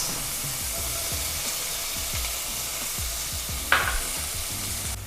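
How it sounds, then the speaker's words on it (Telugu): Tomatoes and onions fry in a hot kadai with a steady, close sizzle, while a utensil scrapes and stirs them in repeated low strokes, with one brief sharper clatter near the end. "ఆనియన్స్ మనకి కొంచెం ఫ్రై అవ్వాలి, టమాటోస్ కూడా మనకు కొంచెం ఫ్రై అవ్వాలి అన్నీ"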